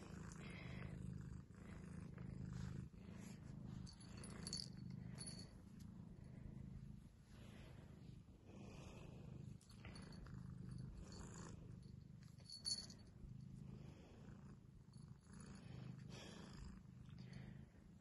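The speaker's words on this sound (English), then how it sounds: "silly little cat." A domestic cat purrs steadily and close by in a quiet room at night, a low continuous rumble with faint rhythmic breath pulses, alone with no talk.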